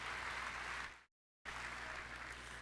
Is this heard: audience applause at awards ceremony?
yes